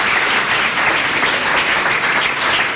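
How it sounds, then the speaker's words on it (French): An audience in a lecture hall gives loud, sustained applause in an even roar of many hands, with no speech over it. "On applaudit s'il vous plaît pour la réponse."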